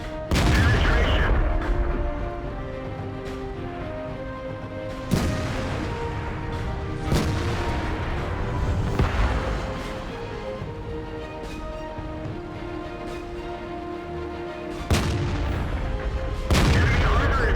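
An STB-1 tank's cannon firing in World of Tanks, loud booming shots spaced several seconds apart with rumbling decay and battle noise between, partly under a voice.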